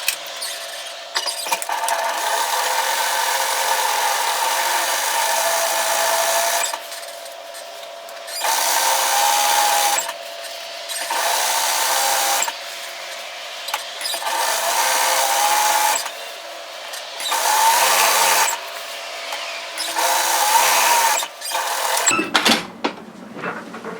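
A sewing machine stitches down a dress hem along an overlocked edge, running in several long steady whirring bursts of a few seconds each, separated by short pauses, ending with a brief clatter.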